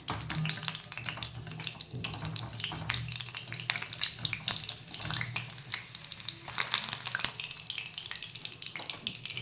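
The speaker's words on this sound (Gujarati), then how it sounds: "હવે મરચાં તળી લેવાના." Oil crackles and sizzles steadily as green chilies fry for bhajiya, with sharp pops and spits scattered throughout and a few faint clinks in the background.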